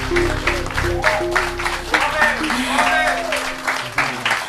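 A church congregation applauds the Unity Band at a Sunday celebration service, broad clapping and cheering mixed with lingering band tones and some voices, continuous and fairly loud.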